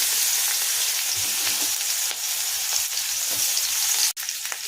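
Chopped onion fries in oil for a stuffed pointed gourd filling, making a loud, dense, continuous sizzle close up with faint stirring touches and a brief dip near the end.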